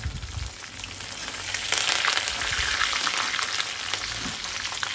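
Fish fries in hot oil with green chillies, curry leaves and cashew pieces for a peri peri fish fry. A steady, close sizzle crackles without pause and grows slightly fuller partway through. No voices.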